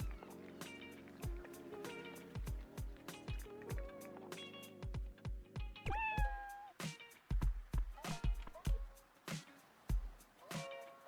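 Cat meowing in the video game Dave the Diver, with a rising meow cry amid a busy run of sharp clicky game sound effects and a looping musical background, fairly loud and without talk.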